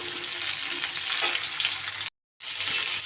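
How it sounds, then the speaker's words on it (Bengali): Ridge gourd and pointed gourd stir-fry in a hot pan, giving a steady close sizzle with scraping stirs. The sound cuts out briefly, then returns. "এবার আরও কিছুটা সময় ভালো করে নাড়াচাড়া করে নেব।"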